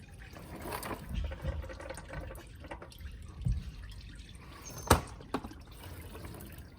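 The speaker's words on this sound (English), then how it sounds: "We're going to wait for it to finish draining." Engine oil drains from a 2.4L Jeep Cherokee, a soft dripping trickle with a few sharper drops splashing into a pan, close and fairly quiet.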